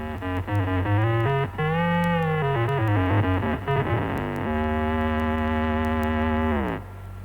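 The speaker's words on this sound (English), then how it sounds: "But the same instrument, coupled with an octave divider," An electric guitar fed through an octave divider plays thick, doubled notes with a strong low undertone, moving through a phrase and then holding a long buzzy note before it cuts off.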